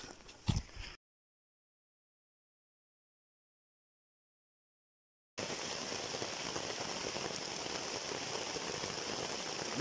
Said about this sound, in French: Il est en train de tomber une très belle drache.